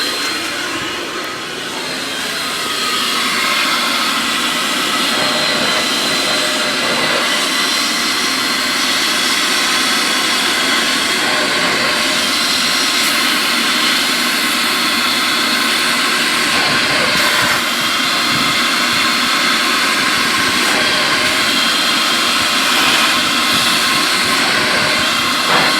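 A carpet extractor sprays and suctions inside a 2002 Chevrolet Suburban interior, producing a loud, continuous whooshing hiss with a whining motor tone held steady throughout.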